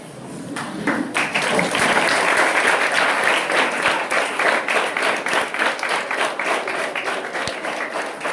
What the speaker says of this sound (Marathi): त्यासाठी उभं राहून सगळ्यांनी टाळ्या वाजवायच्या.